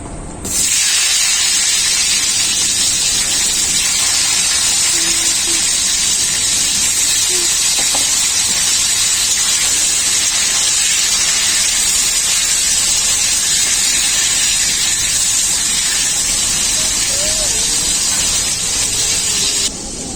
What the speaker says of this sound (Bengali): তেলটা খুব ভালোভাবে গরম হয়ে গেছে এখন আমি বেগুনগুলো ভেজে নেবো